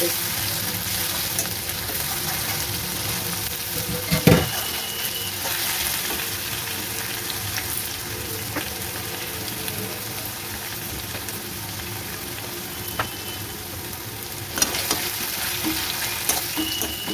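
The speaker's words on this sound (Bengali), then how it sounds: "পেঁয়াজটা একটু নরম ভাজা হয়ে গেছে" Onion paste frying in a pan, a steady close sizzle with occasional clinks and scrapes of stirring, while preparing katla fish kalia.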